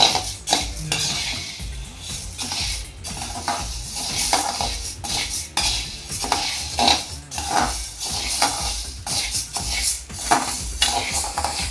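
Chutney powder ingredients dry-roasting in a pan, with steady scraping and stirring strokes of a spoon against metal and soft clinks, busy and close throughout without any voices.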